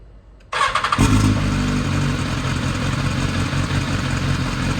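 A BMW S1000RR motorcycle engine kicks on and settles into a loud, steady, throbbing idle, close by and continuous.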